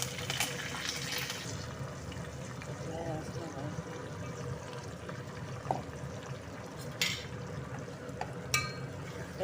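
Curry leaves, onion, dried red chillies, mustard seeds and cumin being stirred in a pan, with soft scraping and a faint sizzle running steadily under a voice, plus a couple of sharp utensil clinks near the end.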